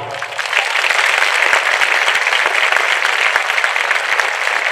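Loud, steady applause from a sizable congregation at a Catholic ordination in Simdega, many hands clapping continuously without letting up.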